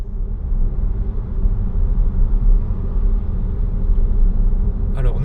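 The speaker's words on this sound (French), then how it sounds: "nous voilà en route pour notre premier passage sur le circuit test à 90 km/h stabilisé avec l'attelage" A Renault Megane E-Tech electric car towing a trailer cruises at a steady 90 km/h on a test circuit, with a constant low road and tyre rumble heard from inside and a brief voice at the end.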